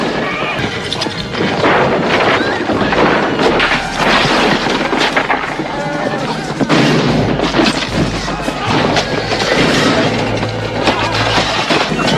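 Loud chaotic commotion as mounted horsemen storm a mining camp, horses neighing amid crashes and booms, a dense continuous din throughout.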